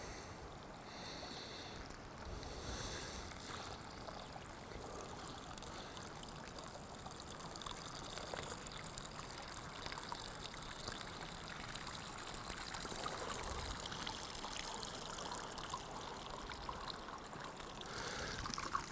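Water is poured steadily through a tripod survival filter layered with carbon and dirt, making a continuous trickling, splashing flow that runs close by and unbroken for the whole stretch.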